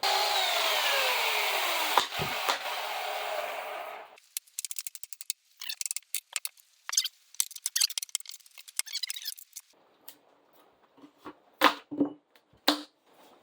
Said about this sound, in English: I cut up the rest of it with a chainsaw.